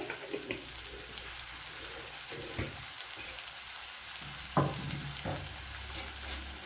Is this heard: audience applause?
no